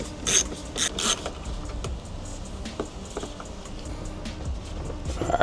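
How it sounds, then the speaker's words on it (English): Ratcheting and metallic clicking of a wrench working 10 mm bolts holding a taillight on a 2014-2017 Infiniti Q50, close and irregular with small taps and gear-like ticks, no talking. "you're gonna undo both these 10 mils, and then you'll be ready to take off the light."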